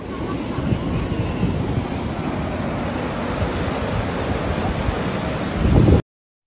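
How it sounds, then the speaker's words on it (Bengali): Strong rushing water current at Gokarna roars as a dense, steady broadband wash, close and loud with wind buffeting the microphone, swelling briefly before cutting off abruptly. "জলের প্রচণ্ড স্রোতের আওয়াজ হচ্ছে"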